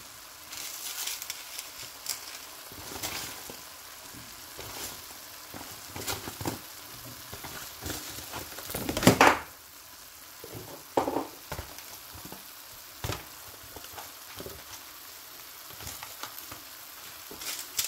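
Carrots and chayote sauté in a hot pan with a steady soft sizzle, broken by scattered clicks and scrapes of stirring and one louder clatter partway through, with no talking.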